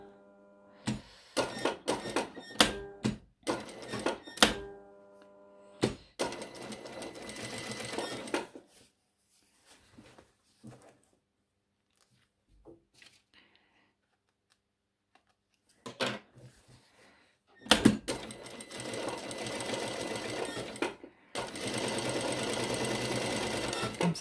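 A sewing machine topstitches the upper edge of a shirt collar in several loud, fast bursts of rattling stitching. Silent pauses and small handling sounds separate the runs, and one long steady run comes at the end.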